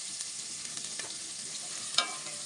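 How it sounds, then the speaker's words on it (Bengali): Prawns sizzle steadily in a frying pan with hot oil, a soft even crackle with a brief sharper spatter near the end. "চিংড়ি মাছ ভেজে নিচ্ছি"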